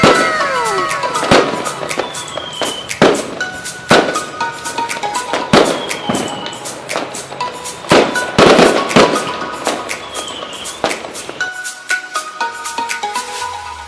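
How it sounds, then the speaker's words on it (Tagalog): Fireworks crackle and burst in a short display put on by a charcoal grill cook before grilling bangus, with repeated sharp bangs, whistling rockets and fizzing crackle throughout. "inihahandog namin ang isang maikling fireworks show galing sa aming charcoal master"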